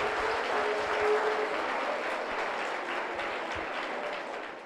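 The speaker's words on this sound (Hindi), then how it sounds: "एक बार हाथ ऊपर करके सारे लोग ताली बजा दें" An audience applauds at a birthday celebration gathering, dense sustained clapping from many hands that stays loud and slowly tapers off, with no voices over it.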